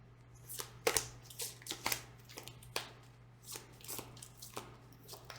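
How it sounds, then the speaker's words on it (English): Tarot cards being shuffled by hand, a series of soft, quick riffling and slapping bursts at an irregular rhythm, close and quiet over a low steady hum. "maybe I should try shuffling in a different way."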